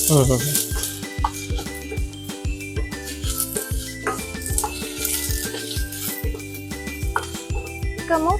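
Sliced capsicum fries in a pan for vegetable manchurian, a constant sizzle broken by rhythmic clinks and rattles of a spatula stirring against the metal, close and busy throughout.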